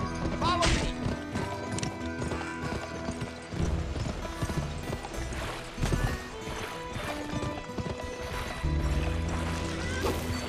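Galloping horse hooves on a Western plain in the shooter GUN, a steady rapid clip-clop throughout, close and loud beneath game music, a neigh and a voice now and then.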